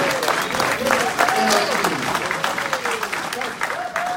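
Audience applause at a monthly community meeting, a moderate burst of clapping that carries through the whole stretch under a voice speaking over a microphone.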